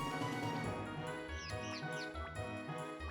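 A looping bird in the game Aveyond: Rhen's Quest chirps in a few quick, high, rising and falling swoops. The chirps sit under steady, busy background music that carries on throughout, with no voices.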